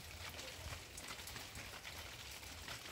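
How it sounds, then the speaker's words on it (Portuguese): Rain falls steadily over a garden in the Brazilian Northeast, a dense, even hiss of drops on surfaces with no breaks, faint and continuous. "a chuva tá de volta aqui no Nordeste"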